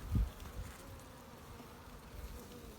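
Pure Caucasian honeybees buzz softly inside a hive in a close, continuous hum, with a brief louder thump near the start.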